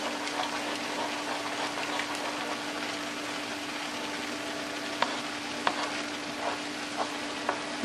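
Beaten scrambled egg with no milk or cream cooks in a pan for cauliflower chicken fried rice, giving a steady soft sizzle with a few sharp stirring clicks near the end.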